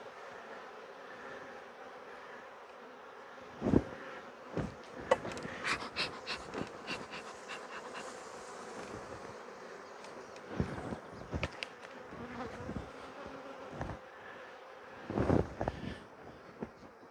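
Honey bees hum in a dense, steady drone around hive frames, with scattered knocks and bumps of frames being handled cutting in now and then.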